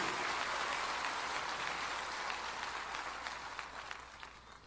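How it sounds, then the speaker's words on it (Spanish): A church congregation applauds in praise during a worship service, a steady wash of many hands clapping that gradually fades toward the end, fairly faint and with no clear speech. "Puede darle un aplauso de gloria a ese Dios"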